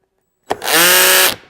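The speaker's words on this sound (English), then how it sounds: "We'll go full drill mode." A corded power drill spins up at full speed during a torture test, rising sharply into a loud, steady whine for under a second before cutting off abruptly.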